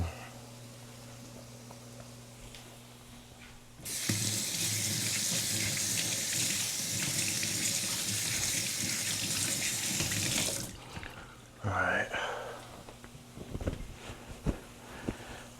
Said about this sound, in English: And so now, rinse my hands off real quick.